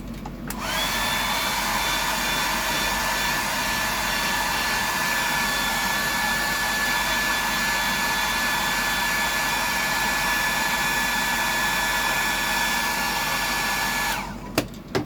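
Close and loud, a hair dryer blows steadily for about fourteen seconds to dry paint on a bibless fishing lure, a constant airy whir that cuts off at the end.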